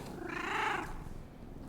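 A cat in the video game Indiana Jones and the Great Circle gives a single short, close meow over a faint purring rumble.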